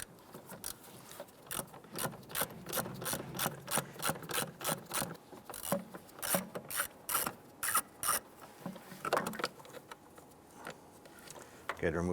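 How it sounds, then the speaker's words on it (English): A ratchet with an extension backs out an 8mm bolt on the airbox of a 1995-2001 Ford Explorer, giving a series of quick, close metallic clicks in uneven bursts that run the whole length. "Go ahead and remove that bolt."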